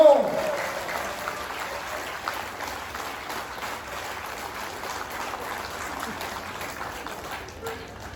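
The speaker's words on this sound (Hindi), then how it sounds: "अपनी जवानी के लिए देखो कैसे बजा रही तालियां" An audience claps at a Safe Shop SPS program in Kashipur, a steady, moderately loud patter of many hands that continues evenly, with a brief louder sound at the start.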